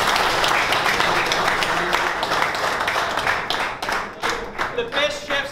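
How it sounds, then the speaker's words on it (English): Applause for chefs at a cooking competition, a dense burst of clapping from a group that thins out into scattered claps near the end. "Round of applause."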